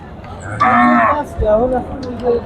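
Cattle at a Qurbani cattle market at Jora Gate in Khulna moo loudly and close by: one long low call, then a second shorter moo after a brief pause.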